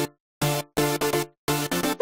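Future house synth chords played dry with no effects, a few short sustained stabs in a choppy rhythm with gaps between them, loud and alone with no voices.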